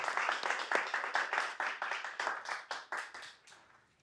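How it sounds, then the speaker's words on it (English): A conference audience claps for the opening of a PyScript tech talk, a dense, steady round of applause that tapers off and fades over about four seconds. "a big applause"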